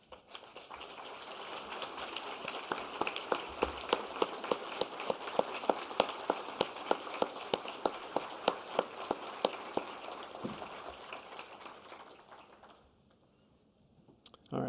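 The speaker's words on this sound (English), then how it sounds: "If I just described you, please stand up and let's give you a round of applause." Sustained applause from an audience at an emergency medicine association's annual awards ceremony, dense clapping that holds steady for about twelve seconds before tapering off near the end.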